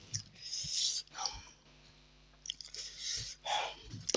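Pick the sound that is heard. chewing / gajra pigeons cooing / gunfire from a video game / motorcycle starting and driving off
chewing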